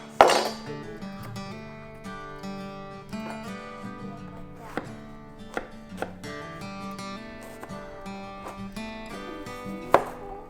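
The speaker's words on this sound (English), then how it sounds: "I'm going to start by cutting off the edges" A knife chopping through a yellow squash on a cutting board, a few distinct thunks heard under background music, one sharper cut near the end.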